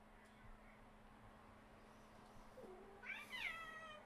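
A pet cat gives a short, faint meow near the end, following a quiet stretch with a low steady hum.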